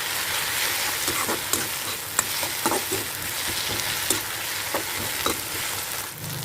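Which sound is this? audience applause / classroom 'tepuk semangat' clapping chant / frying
frying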